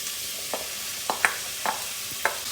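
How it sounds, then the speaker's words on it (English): A vegetable sofrito of onions cooking in hot oil over medium heat, a soft steady sizzle with a few brief scraping stirs, near and fairly quiet, no voices. "So we're just going to cook this sofrito down until the onions become see-through."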